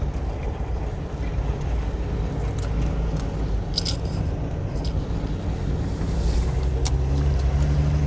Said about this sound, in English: there's quite a bit of traffic on the road.